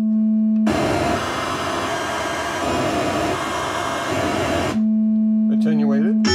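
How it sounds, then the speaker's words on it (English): A steady low sine-wave tone from a Buchla oscillator is swallowed by several seconds of loud broadband hiss, then returns alone before a voice briefly speaks at the end. "Now, the sine wave out of the principal oscillator."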